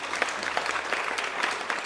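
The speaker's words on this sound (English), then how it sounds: "And let's begin this with a huge round of applause." Audience applause at the opening of the Krishi Chaupal farm science show, a steady dense clapping from a sizable crowd, moderately distant and even in level throughout, with no voices over it.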